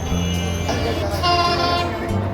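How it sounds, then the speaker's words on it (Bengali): A 769 Up Dhumketu Express intercity train rolls into Azimnagar railway station on line two, a steady low rumble with wheel and engine tones and a brief higher squeal, under a loud station ambience. "ঢাকা থেকে সেরে আসা রাজশাহীগামী সাতশো উনসত্তর আপ দমকেতু এক্সপ্রেস আজিমনগর রেলওয়ে স্টেশনের দুই নম্বর লাইন দিয়ে এই মুহূর্তে প্রবেশ করছে"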